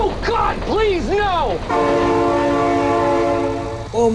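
A train approaching a road crossing blasts its horn in one loud, sustained, steady chord after a person shouts in alarm, and the horn cuts off near the end.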